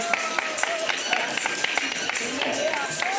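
A theatre audience at a magic show applauds, dense clapping with sharp individual claps standing out, mixed with voices and movement close by.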